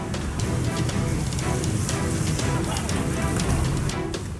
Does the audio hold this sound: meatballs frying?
no